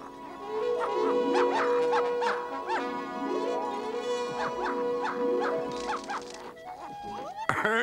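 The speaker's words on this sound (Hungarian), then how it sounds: "De hát ez csak egy kutyakölyök." Cartoon puppy in a Smurfs episode giving a run of yips, whimpers and small barks, close and loud, with rising and falling whiny notes and a sharp sound at the very end.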